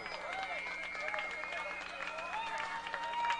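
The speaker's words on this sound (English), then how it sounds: "A round of applause for the bands of Belize Bandfest." An outdoor crowd at Belize Bandfest applauds the competing bands, soft scattered clapping and cheering that swells toward the end beneath loud voices and whistles.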